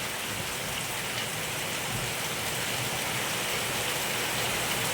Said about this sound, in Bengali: প্রচুর বৃষ্টি হচ্ছে প্রচুর বৃষ্টি হচ্ছে